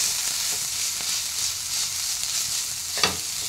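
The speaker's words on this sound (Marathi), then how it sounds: "कांदा छान परतत आलेला आहे आपला." Onions sauté on a flat griddle pan for an onion chutney, a steady hiss of frying with light stirring scrapes and one sharper clink near the end, close and alone.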